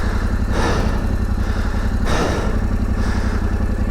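A Yamaha Tenere 700 motorcycle engine runs steadily while riding off-road on downhill practice runs, with a low, throbbing drone that stays loud throughout and rises briefly in a few surges.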